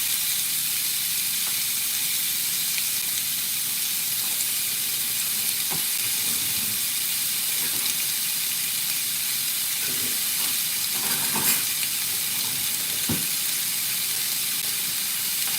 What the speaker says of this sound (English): You hear it sizzling? Yeah. That's what it's supposed to do on the grill, okay?